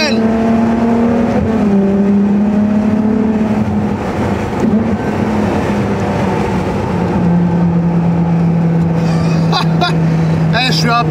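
A Ferrari Monza SP's engine drones loudly and steadily, shifting pitch as it drives, with heavy wind rush around the open cockpit and a voice speaking over it.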